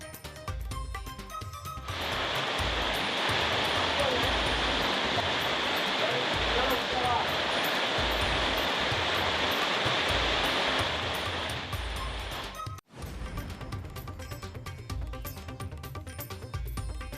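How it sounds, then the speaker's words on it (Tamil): Heavy rain pours in Madurai, a dense, steady roar of downpour with water rushing over flooded roads, loud and continuous before fading to lighter patter near the end. "மதுரையில் வெளுத்து வாங்கிய கனமழையால் சாலைகளில் வெள்ளப்பெருக்கு."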